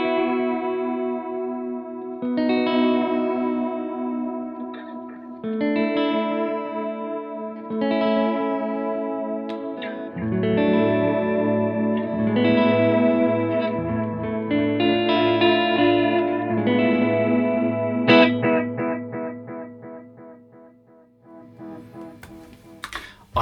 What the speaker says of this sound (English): it's basically this sort of like wobbly analog delay sound.